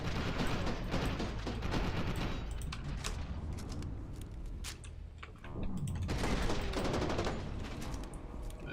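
Enemy gunfire in the F.E.A.R. 2 video game, dense overlapping shots and bursts filling the whole stretch with a busy, loud wash of combat noise that dips briefly in the middle before surging again.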